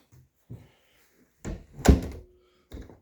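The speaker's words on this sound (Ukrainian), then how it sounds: "Далі направо двері, вход в хату." A house door opening from a cold unheated storeroom into the main room: a few soft thumps, then a heavier wooden knock and creak, and a final thud, close by.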